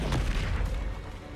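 Bombarda spell explosions in the Hogwarts Legacy video game: a dense run of heavy booming blasts, loud and close, filling the whole moment with rumbling low-end impacts and no talk.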